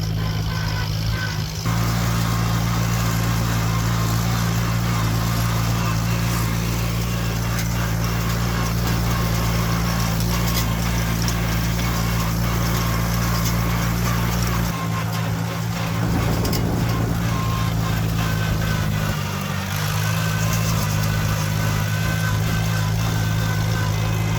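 A heavy diesel tractor engine drones continuously at close range while working, a deep steady rumble with rattling and slight shifts in load.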